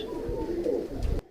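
Domestic flying pigeons of the churail breed, male and female, coo softly at close range in a low burbling phrase that stops abruptly near the end.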